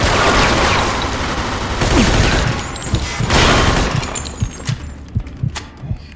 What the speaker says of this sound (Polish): mogę rzucić tym granatem stąd.